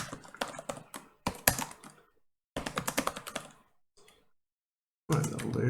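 Fast typing on a computer keyboard while coding a ReactJS interface, with bursts of close, crisp key clicks separated by short pauses and a louder flurry at the end.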